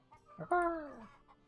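A black rooster being sold by a merchant gives a single short, nasal cluck-like call in a medieval kingdom-management game, close and clear against a quiet background.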